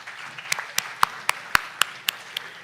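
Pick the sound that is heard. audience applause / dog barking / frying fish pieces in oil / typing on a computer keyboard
audience applause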